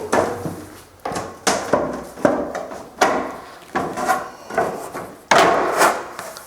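Wall panels being set in place for a trial fit before gluing, producing a quick series of close wooden knocks and scraping slides, roughly eight sharp thuds spaced about a second apart.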